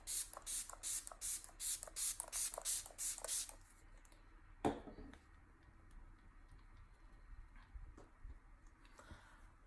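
MAC Fix Plus setting spray misted onto a face, a quick run of about ten short pump bursts in steady rhythm, close and fairly crisp, followed by quieter handling sounds.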